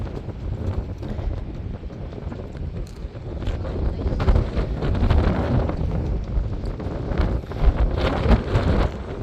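Strong wind buffets the microphone at a fishing spot on the Los Banos Aqueduct, a loud continuous rumbling roar with gusty surges throughout and some faint voices underneath.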